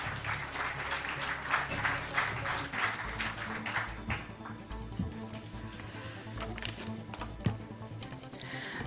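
An audience at a book launch claps in a lively round of applause, with many hands close and far and some individual sharp claps, tapering slightly, with no speech.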